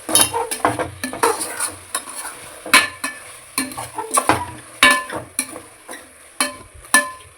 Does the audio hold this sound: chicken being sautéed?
yes